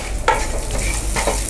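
Lemon rice with salt gets mixed in a pan, giving a soft steady background sizzle and two distinct scraping strokes of a spoon, close and quiet with no voices.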